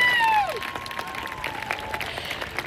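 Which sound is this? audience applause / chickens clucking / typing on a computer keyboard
audience applause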